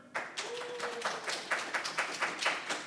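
Audience clapping at a live comic book reading at Long Beach Comic Con, a modest round of applause with distinct claps rising and pulsing for about three seconds, no talking over it.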